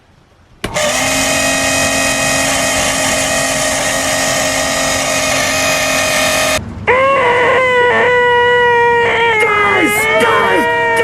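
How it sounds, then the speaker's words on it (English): Noisy bathroom exhaust fan running loud and steady, a dense broadband whir with strong tonal hum, then a shift partway through to a harsher whining drone with wavering pitch. "It's the bathroom fan."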